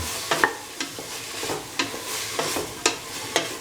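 Cauliflower pieces and scrambled egg are tossed in a frying pan, giving a soft sizzle under a regular series of spatula scrapes, about two per second.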